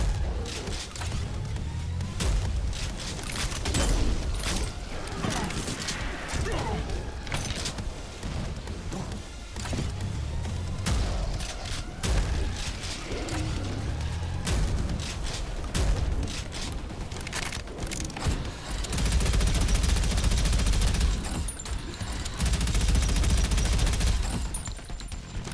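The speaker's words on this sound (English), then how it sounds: "Everything's exploding." Sustained gunfire and repeated explosions in the shooter Prodeus, a loud, dense barrage of shots and deep booms that keeps going throughout, growing heavier near the end.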